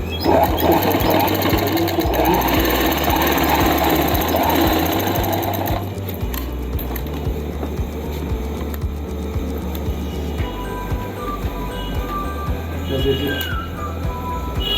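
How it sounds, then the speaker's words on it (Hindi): A sewing machine stitches a zip onto palazzo pants, a loud, close, continuous mechanical rattle that lightens and keeps going at a steadier pace partway through, with a person talking over it. "अब इसको सिलाई के साथ जिप के साथ पक्का कर देंगे ताकि बाहर कपड़ा ना निकले।"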